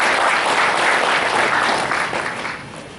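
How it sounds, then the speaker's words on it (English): Audience applause for the Vice Chancellor at an ABU Zaria banking and finance department event, a dense, steady clapping that holds loud for a few seconds and then eases off slightly toward the end. "a round of applause for our Vice Chancellor"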